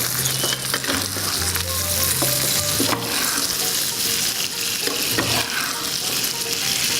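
Steak frying and sizzling in a pan while being basted with its own juices, a steady loud hiss with scraping and stirring clatter throughout, no talk.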